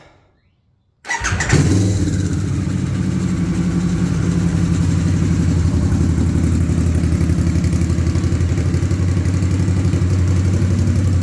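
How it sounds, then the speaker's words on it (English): After a second of silence, a 2023 Harley-Davidson Sportster S with an aftermarket exhaust fires up and settles into a loud, close, steady rumbling idle that runs to the end. "But with this exhaust, completely changes the sound of the bike."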